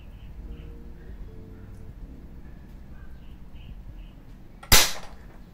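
An HFC VSR11 airsoft sniper rifle fires a single sharp, loud crack near the end, after a quiet stretch with faint outdoor bird calls in the background.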